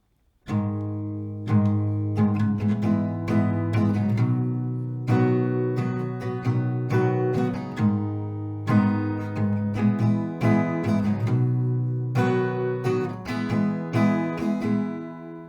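Steady strumming on an acoustic guitar cycles through a four-chord progression twice, played close and evenly with no voices.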